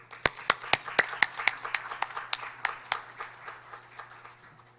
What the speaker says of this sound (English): please join me in giving him a big round of applause